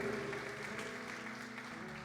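Congregation applauding during an afternoon church service, a steady, fairly quiet wash of clapping that holds evenly for about two seconds with a low hum underneath.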